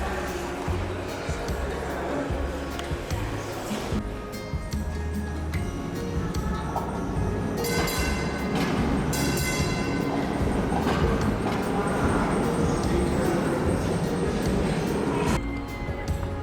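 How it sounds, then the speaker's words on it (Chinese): A tram at its terminus in Christchurch, New Zealand, rumbles and clatters steadily throughout, with a dense roar and rhythmic ticking, while voices can be heard in the background. "这里应该是有轨电车的一个终点站"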